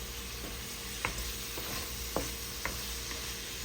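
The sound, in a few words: stirring and cooking chicken in a pan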